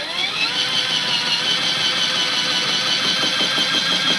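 A big potato spins on a tornado fries cutter skewer with a steady, close mechanical whirring drone and faint rhythmic rattling toward the end, heard alone.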